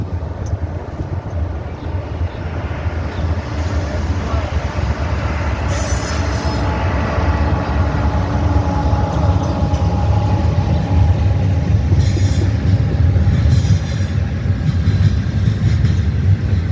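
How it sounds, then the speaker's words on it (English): A Norfolk Southern westbound intermodal train led by GE locomotives rolls by, a continuous loud rumble of wheels on rail with brief high squeals and hiss bursts scattered through the passage. "Next up is another Norfolk Southern westbound intermodal with GE power."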